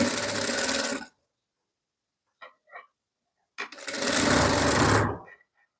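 Sewing machine stitching a cotton boho print dress for a toddler, two loud close bursts of steady running stitches separated by a pause with a few faint clicks.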